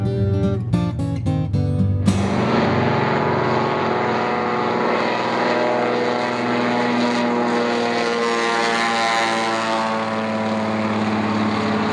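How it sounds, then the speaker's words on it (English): A fully restored Norseman propeller floatplane arriving at a lakeside lodge, its radial engine sputtering briefly before settling into a loud, steady, droning roar that holds throughout. "He flies a fully restored Norseman, and today he's bringing it into the lodge to pick me up"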